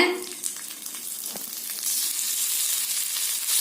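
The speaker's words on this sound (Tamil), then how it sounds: "வறுத்தெடுத்துடலாங்க" Dried fish, ola karuvadu rubbed with spices and marinated, frying in a little oil, giving a steady close sizzle that swells louder partway through, with no voices.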